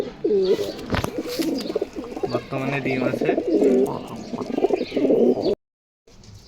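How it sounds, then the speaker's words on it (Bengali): Two male pigeons coo repeatedly at close range in low, throaty rolling phrases, heard under someone talking nearly throughout, before a brief drop to silence near the end. "এই দুইটাই নর কবুতর"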